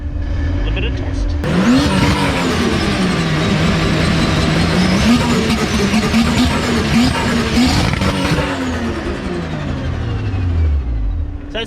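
A drift car with a new engine on a proper aftermarket ECU revs hard and steadily during a test, a loud sustained engine roar rising and falling in pitch with tire noise.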